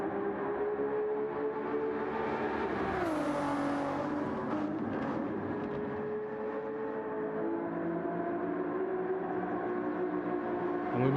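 Ferrari race car lapping Circuit de Spa-Francorchamps in Gran Turismo 7 during a 12-hour endurance race, engine droning loud and continuous, pitch sliding down and up through gear changes.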